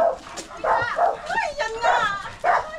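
A dog lets out several close, whiny barks and yips in quick succession, with people talking around it.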